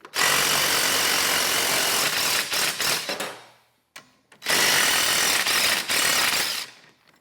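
Loud, continuous rattling power-tool noise, likely an impact wrench driving a bolt into a track, runs in two long bursts separated by a brief silence, with stuttering dips near the end of each burst.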